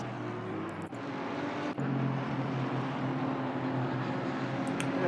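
GT3 and GT4 race cars lapping the Barcelona circuit in a racing video game, a continuous droning engine roar with steady pitch and two brief dips as cars pass through turn 12.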